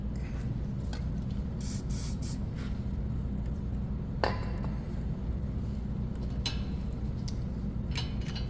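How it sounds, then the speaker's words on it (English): Short hissing bursts from an aerosol spray can aimed at a car's wheel studs, several quick sprays over a steady low background rumble, with a metallic ping midway. "Actually, let me spray it first."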